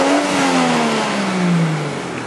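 The variable valve timing turbo engine of a Toyota Chaser TRD drones loudly close by, its pitch sliding gradually downward as the revs fall.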